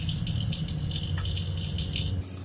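Water runs steadily from the outlet of a Kinsco RO water purifier, a continuous close hiss and splash with a low hum underneath, unbroken throughout.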